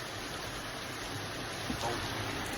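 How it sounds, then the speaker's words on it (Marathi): A dense, even wash of rainfall hisses steadily throughout, fairly close, with a faint knock near the end. "खूप जोरात पाऊस चालू आहे"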